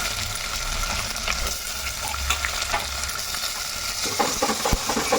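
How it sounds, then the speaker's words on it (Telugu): Onions and green chillies frying in a pan for masala rasam, a steady close sizzle with occasional stirring scrapes and no talk. "ఉల్లిపాయలు కూడా కలిపి వేసేసుకుందాము. మంచిగా వేగుతాయి."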